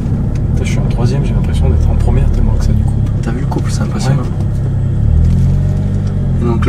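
Volvo C30 T5 with Heico tuning pulling hard in third gear on a country road, a loud continuous engine drone and rumble inside the cabin, with people talking over it.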